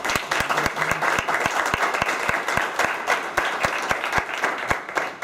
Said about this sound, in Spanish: gran aplauso para el profesor